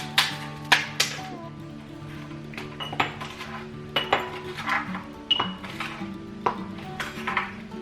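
Ice is dropped into a frothed drink, a string of bright clinks and rattles at close range, recurring in irregular bursts against a quiet kitchen background.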